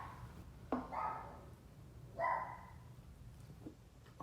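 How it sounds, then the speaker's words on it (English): Dogs bark indoors at a distance, two short sharp barks a second or so apart, fairly faint over room noise. "Why would they bark as soon as I start talking?"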